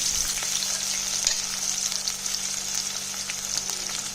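Ginger frying in hot oil for gooseberry rice, a steady close sizzle running evenly throughout with faint stirring and no voices.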